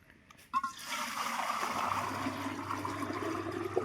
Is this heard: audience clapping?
no